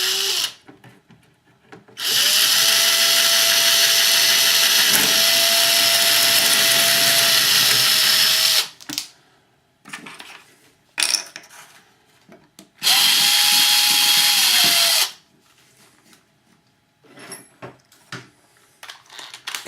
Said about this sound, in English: What I'll usually do is drill this mounting hole.